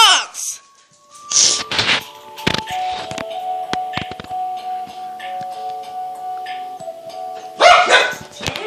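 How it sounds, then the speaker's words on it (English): Dogs bark in a few sharp, close bursts, with clinking, ringing tones and a voice speaking in between, then a last loud round of barking at the end. "Dogs!"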